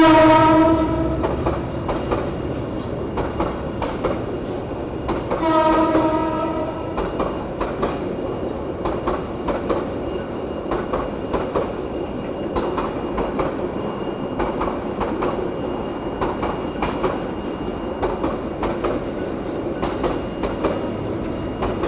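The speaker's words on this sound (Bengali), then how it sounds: "এই যে ট্রেন যাচ্ছে এখন।" A train rolls past at close range, sounding its horn in a couple of long blasts near the start, while the wheels keep up a steady clatter and rumble throughout.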